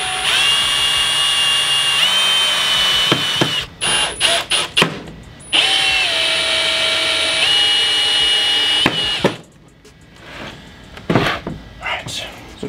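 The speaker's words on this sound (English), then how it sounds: "That way, when we drill through the table, the board underneath will line up perfectly in theory." A power drill bores through the boards of a DIY workbench tabletop, running in long sustained whines broken by short bursts, stops and clunks, with a few quieter handling knocks toward the end.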